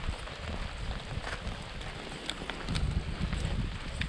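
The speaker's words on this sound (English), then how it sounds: "Lots of rain today." Steady rain patters on a tent in Algonquin park country, a dense, continuous hiss with soft low drumming and occasional brighter drips, close and fairly even throughout, with a faint breath of wind beneath.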